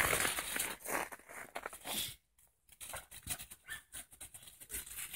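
Young American Staffordshire terrier and Staffordshire bull terrier at home making scuffling, panting dog sounds with soft whimpers and rustling, close by, with a brief quiet gap midway.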